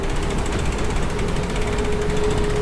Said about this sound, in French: Je sais pas si vous entendez ce bruit, ça commence à siffler